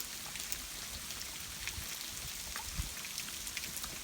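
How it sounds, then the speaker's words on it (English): Rain mixed with snow falls outdoors on a farm, making a steady, soft hiss and patter with scattered drips throughout and no talking. "it looks like a mixture of snow and rain."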